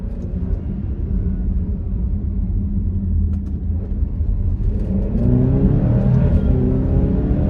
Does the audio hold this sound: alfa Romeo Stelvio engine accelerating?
yes